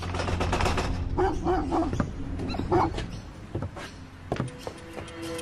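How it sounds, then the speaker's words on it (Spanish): Several dogs barking in short, overlapping bursts at a middle distance, with a low background rumble and a few sharper yips toward the end. "perros ladrando"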